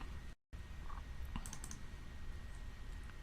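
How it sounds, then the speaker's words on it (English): A few light computer clicks sound faintly over a steady hum from a computer and room, close but quiet, while a file is being uploaded; no one speaks. "click on Upload File"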